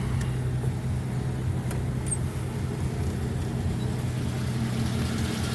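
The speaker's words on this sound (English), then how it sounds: "Let me pull the throttle out a little so it'll idle up." A 1947 Plymouth's engine idles with the throttle pulled out slightly, producing a steady, low, even rumble with a constant hum that stays close and unchanging, with no talking over it.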